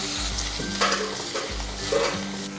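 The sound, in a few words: frying tomato pieces in a pan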